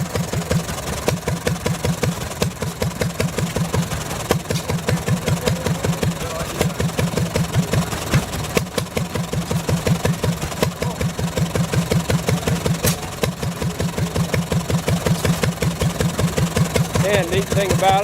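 A Collis engine, radiator mounted in the flywheel, idles at close range with an even, rapid exhaust chuff and a few louder knocks, running steadily throughout.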